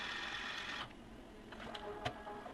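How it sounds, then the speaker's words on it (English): An Evolis Primacy 2 card printer runs a whirring motor feed while a cleaning card ejects, then the motor stops and a few quiet clicks and taps follow. "After the cleaning process is complete, the T card will automatically eject from the printer."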